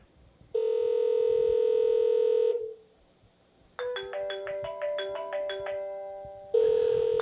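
A telephone rings with an incoming call: a sustained electronic ring tone, a pause, then a rapid melodic run of tones before the ring resumes, clear and close.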